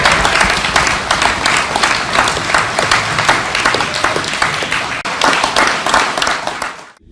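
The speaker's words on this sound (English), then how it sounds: "Let's give the UMWA members in here a round of applause because they heard me." Audience at a union labor dinner claps loudly and steadily, dense applause filling the room for several seconds before tapering off and cutting out at the end.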